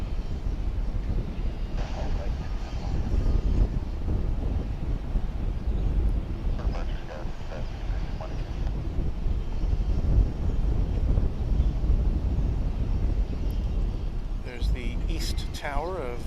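A jet airliner taxis at DFW airport on St. Patrick's Day, a steady low engine rumble with wind buffeting the microphone throughout, while people talk nearby.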